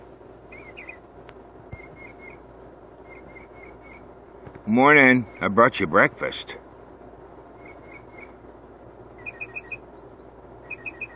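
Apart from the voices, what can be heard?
birds singing in the morning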